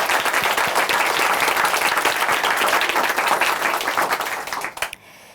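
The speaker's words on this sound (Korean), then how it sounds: "다시 한번 큰 박수 부탁드릴게요" A large church congregation applauds loudly and steadily, dense clapping filling the space before cutting off abruptly near the end.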